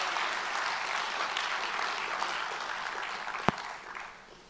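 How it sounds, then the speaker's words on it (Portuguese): A church congregation applauds during a worship service, a steady, moderately distant wash of clapping that includes one sharp, louder clap near the end, then fades out. "Você pode aplaudir o Senhor por isso?"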